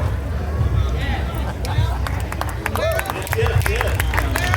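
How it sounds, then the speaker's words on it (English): Live audience at a poetry performance at the Ohio Black Expo in Columbus, clapping steadily with sharp snaps and hand claps over a murmuring crowd, a few voices and a whistle-like cry rising near the end. "The poetry thing, y'all snap, clap, cool, whistle."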